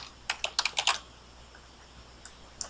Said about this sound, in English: I can then save this just by typing in Toronto, for example